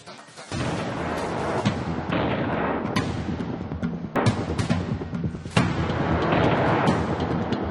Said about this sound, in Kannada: ಸೇನೆಯಿಂದ ಪಾಕ್ ಸೇನಾ ಪೋಸ್ಟ್ ಉಡಿಸ್.